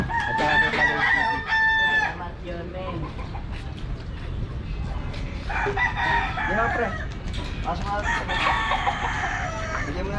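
Chickens cluck and a rooster crows loudly near farm coops, with several calls overlapping in a busy outdoor barnyard and faint background voices.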